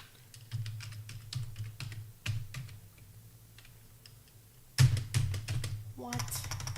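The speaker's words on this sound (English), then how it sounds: "Now I'm going to type in the password." Someone types a password on a computer keyboard in short clustered bursts of crisp, close key clicks, separated by brief pauses, fairly quiet overall with a faint voice near the end.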